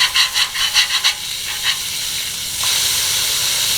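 Patties frying in a pan, giving a steady hissing sizzle, with a few rhythmic scraping or tapping sounds near the start.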